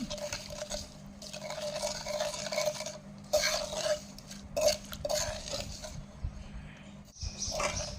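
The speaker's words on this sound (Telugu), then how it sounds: "రెండు స్పూన్ల ఉప్పు అది ఒకసారి బాగా కలుపుకోవాలి ఆయిల్లో మొత్తం" Salt and chilli powder being stirred into oil for a grated raw mango chutney, a spoon scraping and clinking steadily in the bowl, up close with a few louder scrapes.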